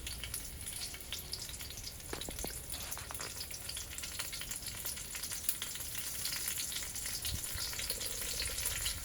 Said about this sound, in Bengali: আমি এখন এখানে তেলের মধ্যে দিয়ে নিচ্ছি তেজপাতা দারুচিনি